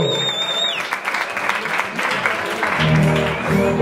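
A live concert crowd applauds at a show, with loud, dense, continuous clapping that fills the space and faint tonal sounds mixed in.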